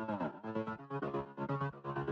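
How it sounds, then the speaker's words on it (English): A growling, vowel-like synth bass with formant sweeps, choppy rhythmic notes that seem to talk, played alone and fairly loud. "We have the talking bass from the drop filtering in."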